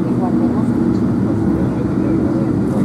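An Iberia Airbus A320 airliner roars steadily at an airport beside Terminal 5, a continuous loud engine drone with a low tonal hum, while people talk nearby over it.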